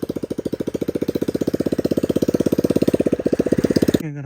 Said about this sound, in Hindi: भाई साहब भी आ रहे हैं मोटरसाइकिल पे।